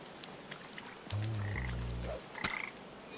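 A frog croaks in the video game Papo & Yo, one deep, loud, close croak of about a second against quiet game ambience with faint clicks.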